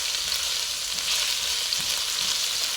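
Chopped onion fries in a pan, browning with a steady close sizzle and occasional stirring scrapes, no talking.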